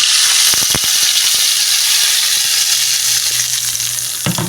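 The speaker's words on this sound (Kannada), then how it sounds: "ಈಗ ಎಣ್ಣೆ ಕಾದೈತೆ ರೀ ಇದಕ್ಕೆ ಹಾಕ್ಕೊಂಡು ಬಿಡ್ತೀನಿ ರೀ ಮಸಾಲೆ" Masala hits hot oil for tempering with turmeric and salt, giving a loud, continuous close-up sizzle and crackle with a few sharp pops, no talking.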